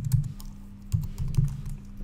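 Typing on a computer keyboard: a short burst of a few soft, close key taps with uneven spacing, heard alone over a faint low hum.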